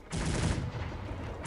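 A loud, dense volley of musket fire crackles all at once, a broad noisy roar that fades slightly before another burst begins, from the video game Cossacks 3.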